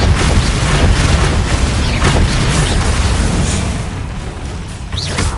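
Bombarda, an explosion spell in the Hogwarts Legacy video game, erupts as a heavy booming blast, followed by several seconds of loud rumbling debris and crackle that eases briefly before swelling again.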